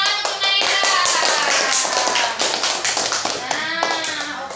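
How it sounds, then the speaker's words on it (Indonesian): Children in a classroom clap for a classmate named Naira, a few sharp, uneven hand claps close by at first, then thinning and scattered while a voice and other talk run over them. "tepuk tangan untuk Naira"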